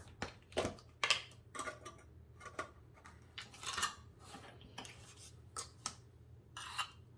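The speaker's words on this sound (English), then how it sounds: "We are gonna do 4 teaspoons of baking powder." A metal spoon scoops baking powder for muffin batter, producing a series of light, close clinks and taps against a container, irregularly spaced over a quiet kitchen background.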